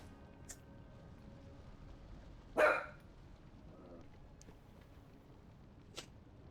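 A pet dog gives a single faint bark from across the room, with a couple of soft thumps around it over a low steady background hum.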